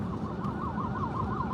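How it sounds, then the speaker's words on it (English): Ambulance siren wailing in a rapid repeating up-and-down sweep, loud and close over a low rumble of traffic and engine noise, with no voices. "Ambulance."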